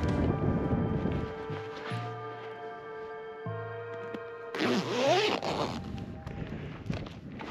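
A zipper on a camping pillow is pulled open inside a parked car during high-altitude car camping, with a longer zip run midway and rustling fabric handling around it, close and fairly quiet.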